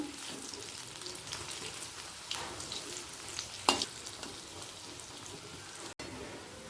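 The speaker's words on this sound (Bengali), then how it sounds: "ডুবো তেলে ভাজাটা বেশ ভালোই হয়" Fritters of matar dal (peyaji) deep-frying in oil, a soft even bubbling hiss with a brief louder crackle midway, heard close and without talk.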